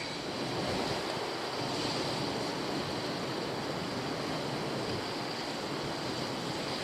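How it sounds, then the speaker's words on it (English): Strong wind blowing steadily across a lake, a broad continuous roar with surf-like buffeting from lapping water, heard outdoors at close range with no talking. "Well, hopefully that wind will drop when it goes dark."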